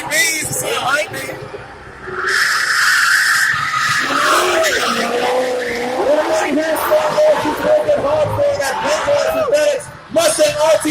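A Ford Mustang RTR Spec 5 drifting at a show, its tires squealing and skidding in long, loud wails over a roaring engine that rises and falls, with crowd noise and an announcer talking throughout.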